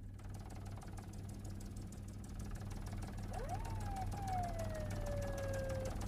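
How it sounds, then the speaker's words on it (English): A police car siren starts up partway through, a rising wail that then holds and slowly falls, loud over steady engine rumble and street noise at a riot scene. "Hit the siren, Doug."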